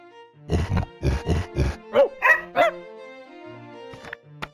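A little dog barks in an interactive storybook app: a quick series of yappy barks followed by a few higher yips and grunts, close and clear, with no talk.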